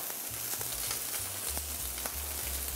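Onion rings fry in hot oil with a steady, close sizzle, a dense hiss running evenly under a low droning tone.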